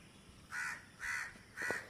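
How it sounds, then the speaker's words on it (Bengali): Three evenly spaced caws from a crow, moderately distant and outdoors near a neem tree in the early morning, over quiet background ambience. "যে কাক"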